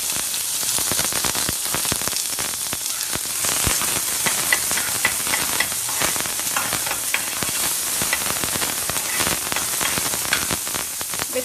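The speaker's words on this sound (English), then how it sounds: "We'll add some oil, little oil, and then we are going to put some onions." Onions frying in a little oil for a leftover French fries poha snack, a steady dense sizzle crackling throughout at close range.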